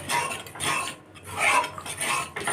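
A spoon scrapes and clinks against a pot while stirring thin masoor dal with an onion tempering, turmeric, salt and chilli powder, making close, irregular metallic scraping in bursts with a short pause midway.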